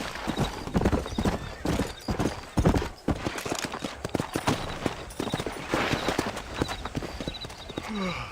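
A horse's hooves clip-clop in a steady fast rhythm in the Red Dead Redemption video game, loud and close, with an occasional whinny and no talk.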